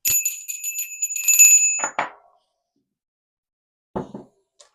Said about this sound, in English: I'm going to ring the bell and let's get started